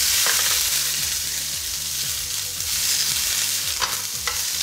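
Garlic fries in olive oil in a hot pan while being stirred. A constant close sizzle runs throughout, with repeated scraping strokes and a couple of sharper clicks.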